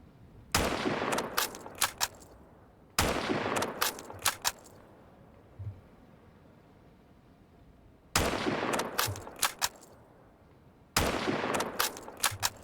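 Rapid bursts of gunfire in the video game S.T.A.L.K.E.R. Anomaly, sharp and fairly close: four separate volleys of several quick shots each, with quiet ambient stretches between them and a faint thud in one gap.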